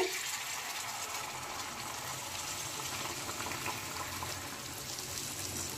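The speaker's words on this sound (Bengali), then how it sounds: "গরম জল দিয়ে দিচ্ছি এর মধ্যে।" Hot water pours steadily into a pot of pulao rice with the gas flame off, a continuous soft gushing splash at moderate distance with no talking.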